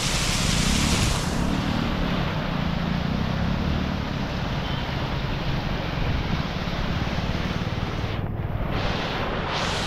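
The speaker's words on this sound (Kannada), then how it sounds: "ಇಲ್ಲಿ ನೋಡ್ತಿರ್ಬೋದು ಒಂದು ಚಿಕ್ಕ ಫಾಲ್ಸ್ ಥರನೇ ಧುಮುಕ್ತಾ ಇದೆ ಇಲ್ಲಿ" A small waterfall spills into Gudibande lake near Bengaluru, giving a steady, dense rushing roar that fills the whole stretch without letting up.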